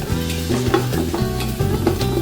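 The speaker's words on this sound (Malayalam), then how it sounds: "നന്നായിട്ട് ഇതുപോലെ ഇളക്കി കൊടുക്കണം." Sliced onions frying with mustard seeds in a pan, stirred vigorously; loud close sizzling with rhythmic scraping strokes and clinks of the spoon against the pan.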